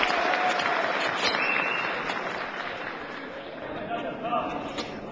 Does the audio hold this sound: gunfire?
no